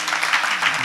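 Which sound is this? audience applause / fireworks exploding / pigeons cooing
audience applause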